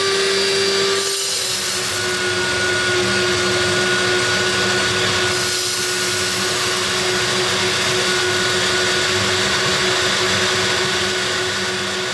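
A motorized Gorilla malt mill grinds grain, a loud, steady, continuous mechanical roar with gritty crunching that fills the whole stretch, briefly dipping twice before resuming.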